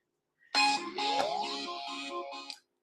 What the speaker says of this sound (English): Man, this phone keeps ringing.